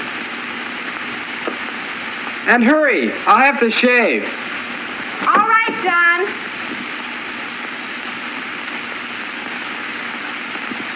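Hot water runs steadily from a shower or tap, a constant hiss throughout with two brief spoken exchanges over it.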